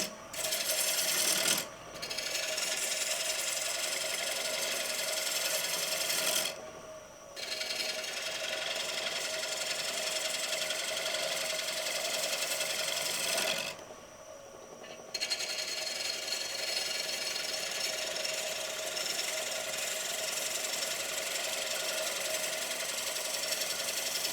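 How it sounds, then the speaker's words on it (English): A woodturning gouge makes a bevel-riding draw cut across a square wooden platter on a lathe. The cut gives a continuous loud, rushing hiss broken by a few brief pauses as the tool lifts. "And then we can blend the rest of this in now with the draw cut."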